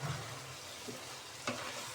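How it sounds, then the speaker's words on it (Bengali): Winter vegetables with prawns being stirred in a hot pan, a soft steady sizzle with faint scraping and a brief clack of the spoon, quiet and close. "এবার ঢাকনাটা তুলে সবজিটা ভালোভাবে নেড়ে দেব।"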